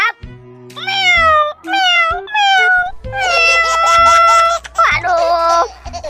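A cartoon character turned into a cat meows in a children's clown animation. A string of high, pitched meows comes close and loud over light background music, with a giggling voice between them.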